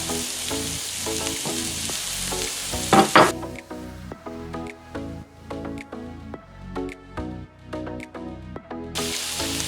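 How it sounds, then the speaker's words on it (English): Vegetables saute in a hot pan with a bright, steady sizzle and occasional stirring, over soft background music. "add in the rest of our vegetables. And we're going to let those saute and get soft as well"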